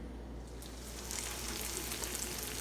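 Egg yolks frying in a pan alongside other food, giving a steady soft sizzle and crackle that grows slightly louder partway through, with no talking over it.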